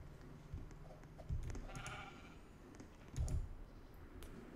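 Two short sheep bleats from the Roblox game The Normal Elevator ring out a couple of seconds apart, fairly faint, over a quiet background with light clicking like keys being tapped.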